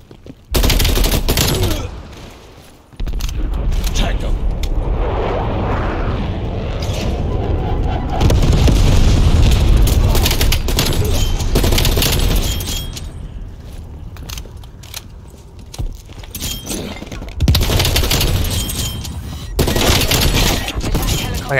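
Heavy bursts of gunfire in Call of Duty: Black Ops Cold War, loud rapid volleys with short pauses between them, mixed with game noise and some talking.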